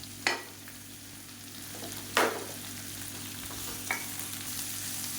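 Tomato and tamarind frying in a pan as the base for a bottle gourd chutney, a soft steady sizzle with three brief scraping stirs, close and fairly quiet, no voices.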